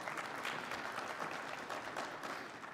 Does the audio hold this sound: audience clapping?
yes